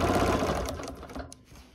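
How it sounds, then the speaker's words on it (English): Sewing machine stippling a quilted table runner, a fast close mechanical chatter of needle strokes that slows and trails off to a stop within two seconds. "that is how I am stippling and sewing this table runner"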